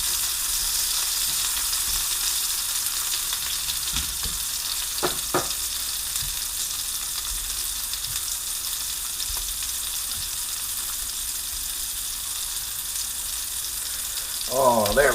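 Meatballs for Italian wedding soup fry in a hot pan with a steady, close broadband sizzle that runs throughout, broken by a few soft clinks and scrapes as pieces are added, swelling louder near the end.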